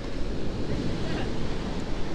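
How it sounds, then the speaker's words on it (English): Big sea waves roll in and hit a breakwater near Ventnor, a steady, loud, broad rushing roar of surf with wind buffeting the microphone throughout. "Waves coming in, still quite big."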